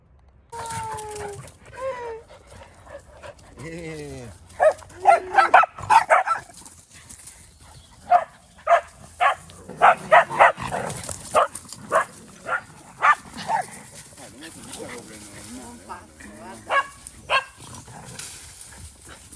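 Dogs barking outdoors in a series of sharp, repeated barks, some in quick bursts and others spaced apart, with a few whining, howl-like tones early on, fairly close and loud over quiet background.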